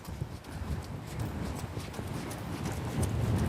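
Hooves of a ridden horse clip-clop steadily on the ground during a fox hunting horseback lesson, an even, close rhythm of thuds that grows slightly louder toward the end.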